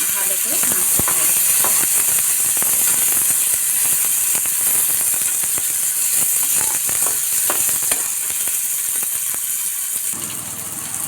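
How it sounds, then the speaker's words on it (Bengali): Carrot, onion, soaked cashews and raisins sizzle loudly in a hot pan while being stirred, a dense constant hiss of frying broken by frequent sharp scrapes and clicks of the spatula. "দিয়ে এটাকে ভালো করে নাড়তে থাকবো"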